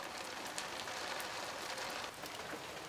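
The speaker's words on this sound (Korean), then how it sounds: "오후엔 비까지 내립니다." Rain falling on a small island, a steady soft hiss of drops pattering on surfaces, even and continuous throughout.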